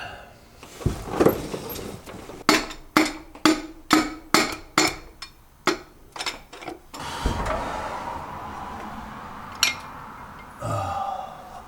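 Metal parts clank and knock in a series of about a dozen sharp, evenly spaced hits as a worn piston is worked out of the bottom end of a 1977 Toyota SR5 pickup engine, followed by a duller scraping stretch.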